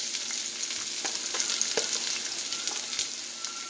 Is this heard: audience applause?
no